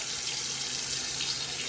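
Water runs steadily from a Delta faucet into a sink in a Kentucky home, a constant, even hiss with no voices.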